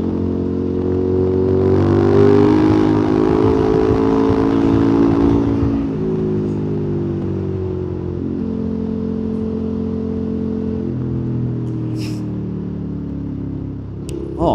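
A KTM 1290 Super Adventure S motorcycle accelerates hard with a loud, rising engine roar that climbs through the revs and then settles into a steady, strong drone, heard up close with no talking.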